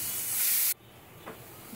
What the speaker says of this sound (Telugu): 2 to 3 విజిల్స్ వచ్చే వరకు ఉడికించుకోవాలి